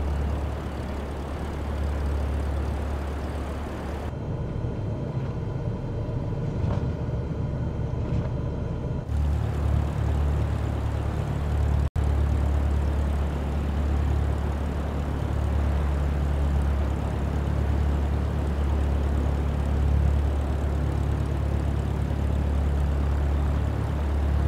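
A propeller airplane comes in to land in the game Microsoft Flight Simulator 2024, a steady loud engine drone with a deep low rumble that shifts tone partway through, with no talk.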